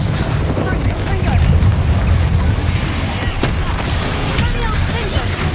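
Confringo spell explosions in the video game Hogwarts Legacy rumble and boom continuously through a dense, loud battle mix, with a voice shouting spell names over the blasts.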